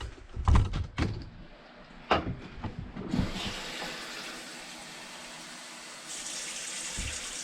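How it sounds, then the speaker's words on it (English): Half a cup of water poured into a pot on the stove for apple butter, with clattering handling knocks first, then a steady rushing pour that carries on to the end, close and fairly quiet. "There's my other 1/2 cup of water."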